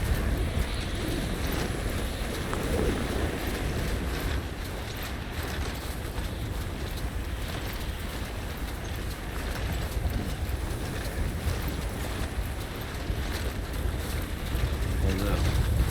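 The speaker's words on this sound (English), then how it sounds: "Very windy." Steady wind rushes and buffets continuously at moderate loudness in the video game Death Stranding, a broad airy roar with no pauses.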